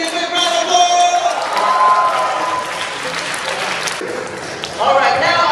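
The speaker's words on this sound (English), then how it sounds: "Give that lady a big round of applause!" A magic-show audience in a live performance gives a lady from the second row a round of applause, steady crowd clapping throughout with a brief dip before swelling again near the end.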